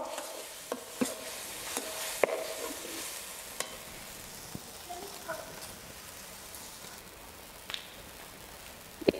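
Shrimp rubbed with turmeric and salt sizzles softly in spice masala on a clay stove, a low, quiet frying hiss broken by scattered sharp clicks and scrapes of stirring.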